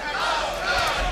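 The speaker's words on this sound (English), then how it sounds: "And now the chant from the crowd of Lopez" A boxing crowd at the Kostya Tszyu vs Hector Lopez fight chants the name Lopez, a steady, dense roar of many voices that holds at an even level through the brief moment.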